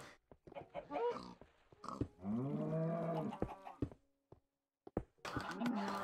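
Pigs grunting in the video game Minecraft, a few short grunts and squeals at close range, with some clicks and thuds around them and a brief silent gap near the end.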